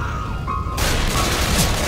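A short burst of gunfire in the zombie shooter Left 4 Dead 2 rises abruptly into a loud, dense crackle after a quieter moment, with a brief tonal game sound just before it.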